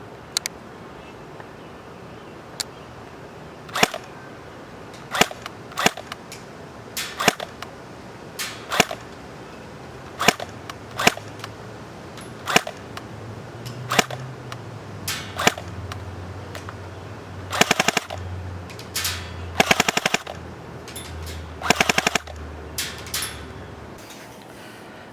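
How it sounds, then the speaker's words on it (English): A Tokyo Marui MP7A1 airsoft electric gun fires outdoors, sharp single shots spaced every second or so, then quicker short bursts of several rounds near the end, with a low hum of wind in the background. "the Tokyo Marui mp7A1 is just an absolutely awesome airsoft electric pistol"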